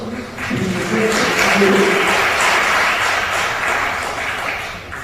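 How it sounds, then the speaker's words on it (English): A round of applause from the audience after a talk on Kuwait metro and rail, steady dense clapping rising quickly and holding for several seconds before easing, with a brief voice at the start. "Let's give another round of applause."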